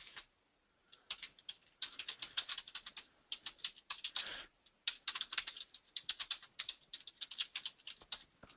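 Fingers type on a computer keyboard, quick clusters of crisp key clicks in irregular bursts with short pauses, close and fairly quiet, no voices.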